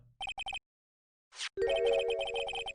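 A phone rings after a redial in the Phoenix Wright: Ace Attorney video game: three short electronic chirps up front, then a brief swoosh and a sustained, louder melodic ringtone tone that holds to the end, with no talking.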